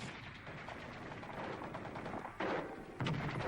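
Machine gun fire in bursts, fairly faint and distant-sounding, with rapid crackling reports over a noisy background and a couple of sharper bursts near the end.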